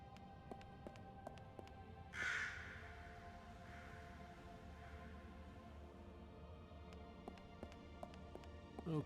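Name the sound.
raven cawing in the video game Lost Horizon 2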